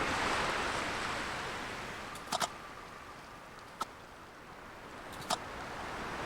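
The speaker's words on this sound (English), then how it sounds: "The sound of the waves has a unique quality to it." Ocean waves wash in a dream-like game world, a soft hiss of surf fading gradually, broken by a few short sharp clicks.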